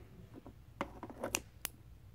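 Scissors snip hair in a few quick, crisp cuts, faint and close, with brief sharp metallic clicks spaced irregularly across two seconds.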